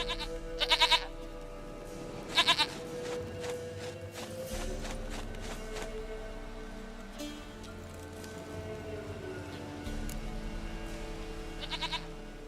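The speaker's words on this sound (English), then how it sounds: "Goat of mine, dearest, sweetest goat." A goat in a fantasy video game bleats in short, repeated bursts, a few seconds apart, over a steady bed of game music and ambient sound.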